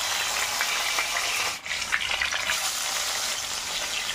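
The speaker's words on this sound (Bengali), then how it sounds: "তার সঙ্গে মাছটা ভাজতে বসালাম" Fish frying in a pan, a steady broadband sizzle running throughout with a brief dip partway, alongside Bengali home cooking of boiled papaya and potato with rice.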